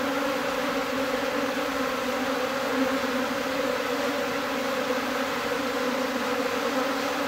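A swarm of Japanese honeybees fills the air with a dense, steady buzzing hum, loud and unbroken, close by with no voices.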